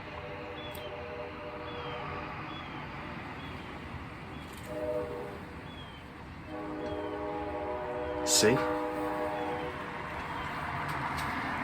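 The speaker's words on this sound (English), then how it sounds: "There goes the train through the next town" A commuter train heading from Philadelphia to New York passes through a nearby town, a faint, distant rumble of rail cars with a few horn-like tones rising out of it. One brief word is spoken over it.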